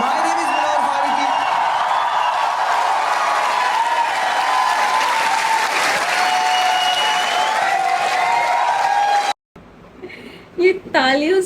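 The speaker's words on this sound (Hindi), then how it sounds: "ये तालियों से उसने स्टेडियम भरा ही हुआ है यार" Thick stadium applause with cheering and whoops at a stand-up comedy show, sustained and loud for about nine seconds, with a voice talking over it, then a sudden cut to quieter talk.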